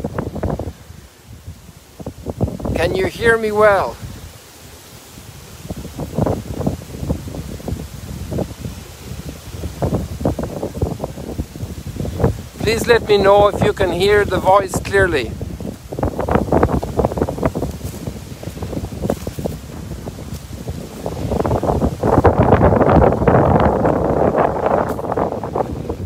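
A strong east wind buffets the microphone outdoors by the waves, a constant low rumbling roar that swells and eases, with someone talking over it at intervals.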